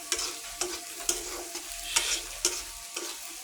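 Potatoes frying in a pan are stirred with a utensil, giving a constant close sizzle broken by regular scraping strokes roughly every half second.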